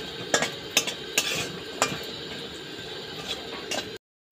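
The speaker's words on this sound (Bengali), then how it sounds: "এখানে দেখো কড়াইতে তেল দিয়ে দিয়েছি। এবার বড়িটা আমি ভেজে নিচ্ছি।" Lentil dumplings (bori) frying in oil in a wok, a constant close sizzle with a few distinct spatula scrapes against the metal, no voices, ending abruptly in silence.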